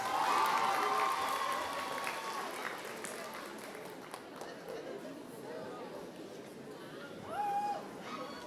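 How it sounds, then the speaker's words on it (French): A crowd at a cosplay contest at Chibi Rouen Hanami applauds a contestant, with a burst of clapping and chatter that fades into a murmuring hall; voices are heard throughout. "un tonnerre d'applaudissements pour Minami Love"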